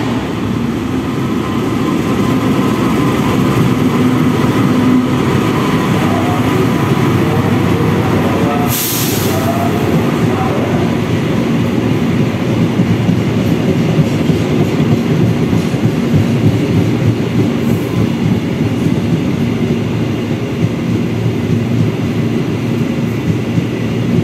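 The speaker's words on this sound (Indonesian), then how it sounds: "Kan berpapasan dengan kereta barang." An Indonesian passenger train, the Argo Dwi Pangga near Bekasi, rumbles past a freight train with loud, continuous rolling wheel noise and rhythmic rail clatter, a sharp hiss or burst of air cutting through midway.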